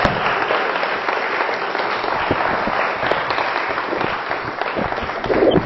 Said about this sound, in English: Let's give one more round of applause for Peter Sterling,